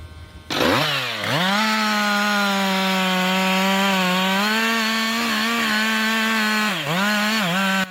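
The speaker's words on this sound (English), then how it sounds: "the roar of a chainsaw tears through the silence" A chainsaw roars steadily through pine wood in a forest, revving up sharply then holding a loud, sustained whine with brief dips in pitch near the end as the blade bites.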